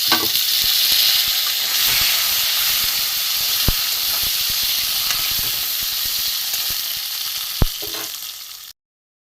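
Steady, loud sizzling of potatoes frying in hot oil, a continuous bright hiss with occasional pops and stirring clicks, then it cuts out near the end.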